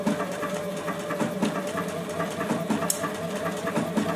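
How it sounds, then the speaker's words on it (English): A JUKI industrial sewing machine stitches along the edge of fabric held against a guide, giving a steady, close mechanical hum with rapid needle chatter running continuously. "And when I stitch, I'm just going to keep the edge of the fabric riding right against that guide."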